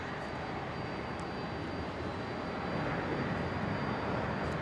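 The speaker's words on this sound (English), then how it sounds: "Taxiing on out for its departure back home to Shanghai." A China Eastern Airbus A330 in special SkyTeam livery taxiing for departure at Brisbane International: a steady, broad engine roar that swells slightly, continuous and moderately distant, with no voices.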